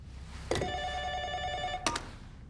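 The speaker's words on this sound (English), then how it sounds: "Is anyone expecting a call on the bat phone?" An old-style bell telephone rings nearby in two short, sharp bursts with a long, humming tone sustained between them, and no voices.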